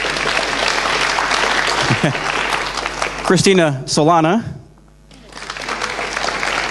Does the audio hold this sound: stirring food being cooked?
no